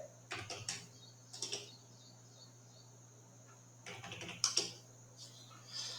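Short bursts of keystrokes on a computer keyboard as Linux commands are entered, separated by quiet gaps over a steady low hum, close and fairly soft.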